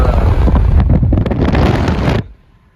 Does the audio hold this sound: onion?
no